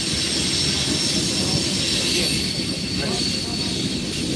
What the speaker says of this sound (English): that train is not going to pass by no time soon